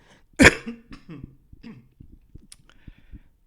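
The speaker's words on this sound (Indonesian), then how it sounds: "Ini maaf ya sambil batuk-batuk." A person coughs several times in a short burst, loud and close, with a strong first cough followed by smaller throat-clearing coughs trailing off, in a quiet room during an online lecture.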